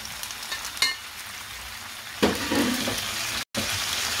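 Garlic and escalopes frying in a pan, giving a steady close sizzle with a sharper surge of crackling partway through as food is added or stirred.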